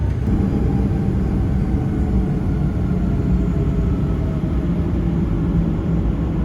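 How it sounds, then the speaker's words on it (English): Steady low cabin rumble inside an American Airlines Boeing 737 before takeoff, a constant engine and air-system drone that fills the whole clip without pauses or talk. "Flight attendants prepare for takeoff."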